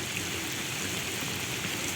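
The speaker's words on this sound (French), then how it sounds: "là vous voyez il pleut vraiment" Heavy rain pours down outdoors in a dense, even, continuous hiss with no pauses and no voices.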